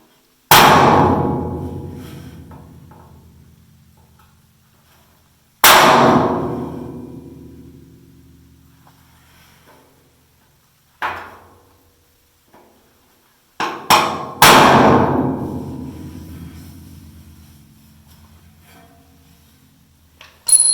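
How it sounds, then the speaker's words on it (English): A hammer strikes a center punch against GT3 road-race chassis metal, a handful of sharp ringing blows spaced seconds apart, each decaying slowly, with a couple of lighter taps between, close and loud. "Center punch it."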